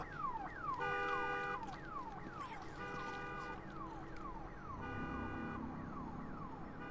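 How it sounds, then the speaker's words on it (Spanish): A car alarm blares in the post-apocalyptic video game Days Gone, its rising and falling electronic wails cycling loudly and steadily for several seconds over a dense game background. "Este coche tiene alarma."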